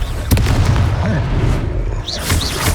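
Confringo blasting spell explosions in the video game Hogwarts Legacy, played on PS5 at hard difficulty, booming in quick succession amid loud combat effects and spell sounds, with shouting over the action.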